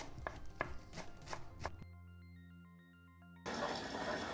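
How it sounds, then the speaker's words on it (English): A knife chops fresh coriander on a board, with about six quick crisp strikes in the first half, then a burst of beeping tones and a rush of running water. "Bunch your coriander. And finely chop it."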